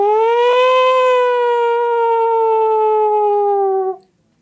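A voice imitates a police car siren with a single loud, sustained wail that sags slightly in pitch and cuts off after about four seconds.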